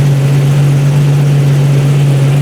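A Jeep engine with a newly installed AX15 transmission idles after a push start, producing a loud, steady low hum with a constant tone, close up and with no talk over it.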